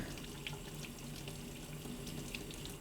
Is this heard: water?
yes